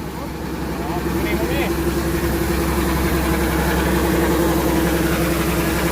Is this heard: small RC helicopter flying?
no